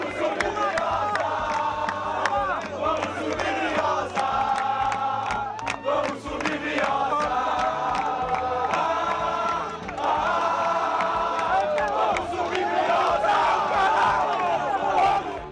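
Football supporters crowd welcoming their team's arrival, a loud, sustained mass of cheering and rhythmic chanting with whistles and shouts, dense and continuous throughout.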